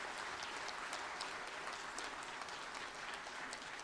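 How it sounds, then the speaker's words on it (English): An audience applauds at an event with the Union Minister for Finance, a dense, even roar of clapping heard from a distance and held at constant level throughout. "Wouldn't you want to clap?"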